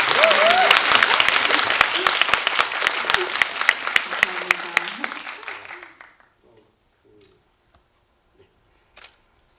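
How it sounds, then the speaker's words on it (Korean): Loud, dense audience applause fills a film Q&A screening of Anchor, attended by the director and lead actress, with a faint voice underneath. The clapping stops abruptly after about six seconds, leaving near silence. "한번 크게 박수 한번 주시죠."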